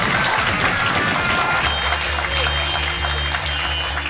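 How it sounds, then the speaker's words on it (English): Audience applause closes a live comedy podcast show, with loud continuous clapping and a low sustained music tone entering partway through. "Ladies and gentlemen, massive round of applause for Tessa and Stevie."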